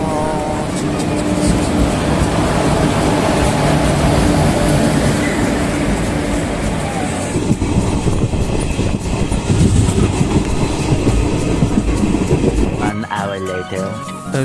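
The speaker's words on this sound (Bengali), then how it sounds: "ফাইনালি ট্রেন চলে এসছে" A train pulling into Balurghat junction, with a loud, sustained rumble of rolling wagons and rattling, clattering wheels that fills the scene and shifts near the end as it slows, with speech mixed in.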